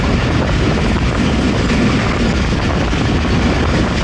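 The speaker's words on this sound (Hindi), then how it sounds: "चक पिराना से थ्रू पास हो रही है हमारी 48 डाउन रहमान बाबा एक्सप्रेस" The 48 Down Rehman Baba Express passes straight through Chak Pirana station without stopping, a loud, close, continuous rumble and rattle of rolling wagons filling the whole stretch.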